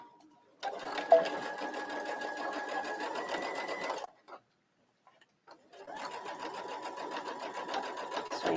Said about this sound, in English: Sewing both of these, basically the lining to the outside with right sides together.